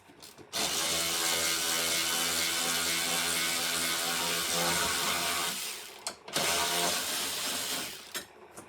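A ratchet fitted with a 12 mm socket loosens intake bolts on a Genesis G70, a fast continuous clicking close by that runs for several seconds, stops briefly, then resumes in a shorter burst.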